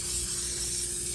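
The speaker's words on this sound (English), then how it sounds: "I'm just going to spray some nonstick cooking spray on there" Nonstick cooking spray hisses out of a can onto a cooking pan in one steady, close burst of airy spray.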